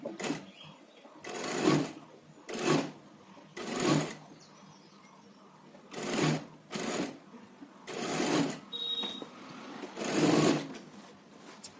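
Short bursts of a sewing machine, each lasting about a second and separated by pauses, as it stitches the neck of a churidar up close, with faint sounds from the room in between.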